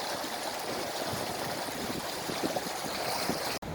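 The River Itchen between St. Catherine's Hill and Twyford flows as a steady, soft broadband rush of stream water, continuous and fairly faint, with no voices.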